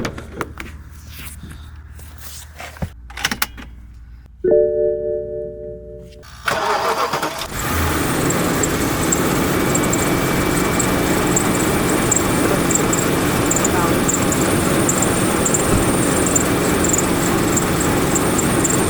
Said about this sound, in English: The sound that you are hearing right now is not serious at all. It comes from the fan belt, not from the engine itself.